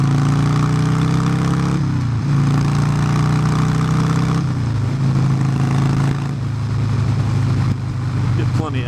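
A motorcycle engine with new exhaust pipes runs loud and steady nearby, holding a deep droning tone that dips and shifts pitch a few times as it idles and revs.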